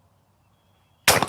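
A Browning Cynergy over/under shotgun fires a Federal 12 gauge trap load, 1 1/8 ounce at 1,200 feet per second, on a trap range: a single loud, sharp blast erupts suddenly after near silence.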